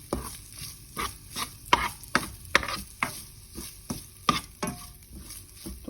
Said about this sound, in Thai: เดี๋ยวเราจะผัดพริกแกงให้หอม ก่อนนะคะ